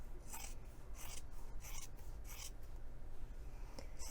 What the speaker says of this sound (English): I'm going to trim that seam in half, so again to about 1/4 inch.